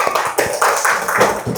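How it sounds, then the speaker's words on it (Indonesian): Classroom group clapping their hands together, a short burst of close, uneven claps with a few soft knocks mixed in. "Tepuk tangan dong untuk kita semua."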